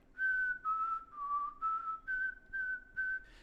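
A person whistles a fiddle tune alone: a clear melody of about seven sustained notes in a steady rhythm, close and fairly loud.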